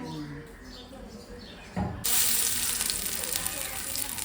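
A tiny shrimp vadi drops into hot oil and bursts into loud, steady sizzling that fills the rest of the moment, close and bright, after a quieter stretch with someone talking softly beforehand.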